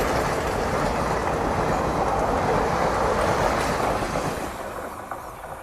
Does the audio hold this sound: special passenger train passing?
yes